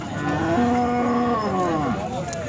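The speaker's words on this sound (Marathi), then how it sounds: "मित्रांनो ही समोर तुम्ही जी गाय पाहता" A single drawn-out cow moo at a Khillar cattle market in Sangola, close and clear, rising then falling in pitch over about two seconds against a low background hum.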